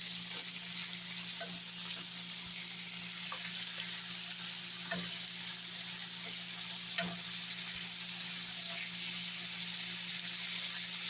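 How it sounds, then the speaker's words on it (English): Lamb chops searing in a pan at home: a continuous, moderately loud sizzle with a low steady hum beneath and occasional faint pops and clicks, with no voices. "And we just braise both sides."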